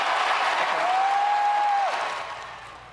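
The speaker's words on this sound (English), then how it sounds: "crowd, several thousand people cheered wildly at the notion of banning every semi-automatic weapon" A large crowd of several thousand people cheers and applauds at a political rally on gun violence, a dense sustained roar that fades toward the end, with a steady tone running briefly through it.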